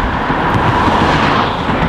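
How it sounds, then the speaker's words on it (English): Cars pass along a reservoir causeway, producing a steady, fairly loud broadband road roar with wind buffeting and no clear individual pass-bys, with no talking. "And there's loads of cars coming through at the moment"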